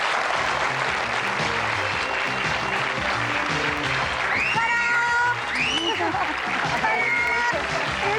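A studio audience applauds and claps loudly for actress Shelley Winters on a talk show, dense continuous clapping with cheering and some whoops rising above it throughout.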